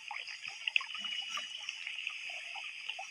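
A dinosaur drinking water in a video game makes a faint, quiet trickling and lapping over a steady tonal game background.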